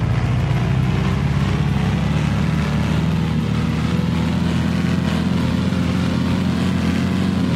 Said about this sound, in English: this engine is super loud